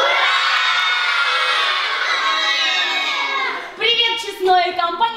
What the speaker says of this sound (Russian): Кричим ура, каникулы 3-4. Ура!